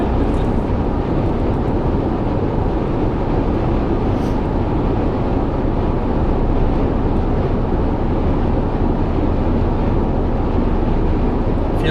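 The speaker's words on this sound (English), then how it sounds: "Man, it is windy. Very gusty up here." Strong gusting wind roars steadily on an exposed stretch of the Coquihalla mountain highway, a dense, continuous buffeting rumble that swamps the microphone throughout with no pause.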